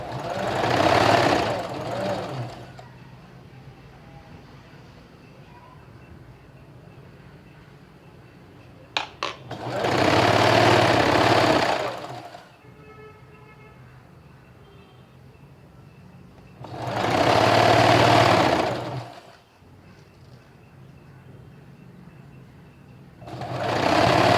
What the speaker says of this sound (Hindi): आप इस तरह रखिए अंदर और इस तरह से इसको सिलाई लगा दीजिए आप पूरी पट्टी पे